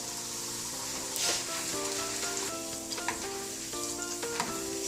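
Urad dal and channa dal frying in hot oil with cumin seeds, a continuous bright sizzle with occasional soft stirring scrapes and light crackles throughout, close and even, with no voices.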